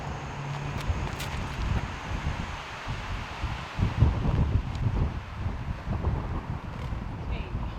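Wind gusting across an outdoor disc golf course, a steady broad rush with rustling trees and microphone buffeting that swells near the middle.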